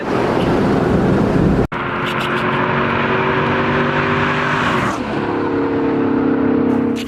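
A stock Z28 Camaro accelerates hard during a speed test, its engine droning loudly and climbing in pitch through a gear change, heard close from inside the car.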